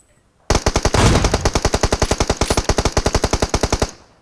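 Rapid automatic gunfire in a video game, a loud close burst of around thirty evenly spaced shots fired in a single continuous stream for roughly three and a half seconds.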